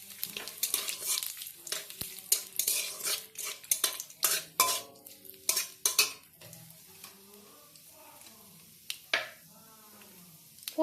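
Cumin seeds, bay leaf and dried chilli drop into hot oil, setting off sizzling under a string of sharp metallic clinks and stirring scrapes from a pan. The clatter comes in irregular bursts and fades to quieter frying.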